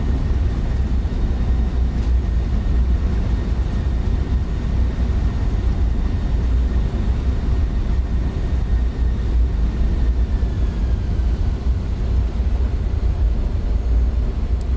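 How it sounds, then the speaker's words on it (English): An Embraer E195F cargo jet roars with a steady broadband rush as its thrust reversers deploy after touchdown, a constant loud engine wash with no break. "Reversers are out."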